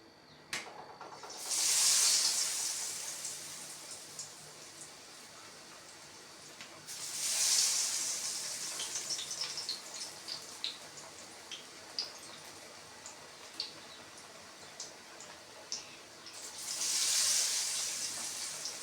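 Gram-flour battered eggplant pakoras drop into hot oil in a wok, sending up three separate surges of sizzling hiss with scattered crackles and pops, fading to a quieter bubbling between them.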